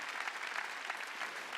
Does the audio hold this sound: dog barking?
no